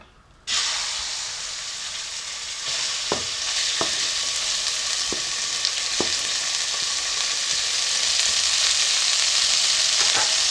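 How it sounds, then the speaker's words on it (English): Beef sizzles and fries in a pot for beef pilau, a loud continuous hiss that starts abruptly and keeps going, broken by a few sharp clicks and stirring knocks. "Now we are going to cook this beef on minimal fire."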